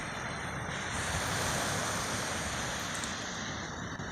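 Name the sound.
Indian Ocean waves on the shore by sand dunes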